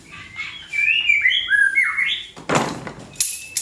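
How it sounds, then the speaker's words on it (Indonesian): Oriental magpie-robins singing nearby, a bright, varied run of whistled chirps and trills, followed by a couple of sharp rattling knocks at the end. "di sini banyak suara burung karena saya adalah pecinta burung murai"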